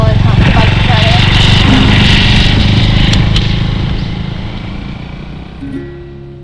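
Motorcycle riding along a forest road through BR Hills tiger reserve in Karnataka, a loud steady engine drone with wind rush that gradually fades, while a rider talks over it.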